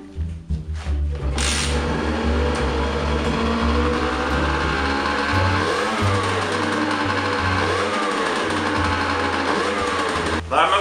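A Rieju MRT moped engine, returned to original spec, is test-started with a few sputtering pulls, then catches and holds a steady, buzzy high idle close by, with a couple of revs and a drop near the end.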